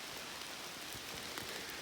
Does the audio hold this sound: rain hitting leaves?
yes